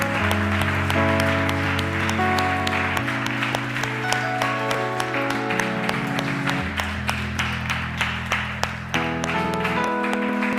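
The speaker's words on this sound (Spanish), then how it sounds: "Démosle un aplauso al Señor." A church congregation claps together in praise, a steady sustained patter of many hands that continues for about ten seconds over background music.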